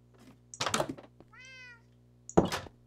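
A short meow from a cat in the video game Minecraft, a single tonal cry set between soft thuds and clicks of gameplay, clear and close.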